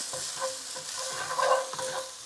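Ginger goes into a pot of frying onions for one-pot masala rice, giving a steady hissing sizzle with a few stirring scrapes and a brief louder burst, close up, with no one speaking.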